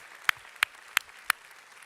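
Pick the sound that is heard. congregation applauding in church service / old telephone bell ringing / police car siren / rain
congregation applauding in church service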